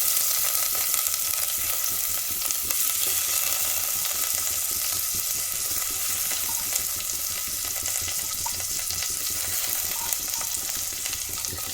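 Washed rice dropped into hot ghee with bay leaves for payesh, sizzling and frying steadily in a pan, a bright, even hiss with faint stirring and scraping, no talking.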